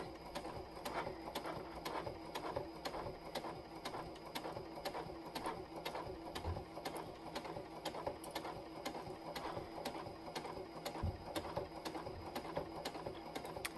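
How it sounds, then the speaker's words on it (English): A sewing machine stitching steadily at a fast, even rhythm, close up and fairly quiet, with no talking. "I have a speed control on my sewing machine so I can control how fast it goes."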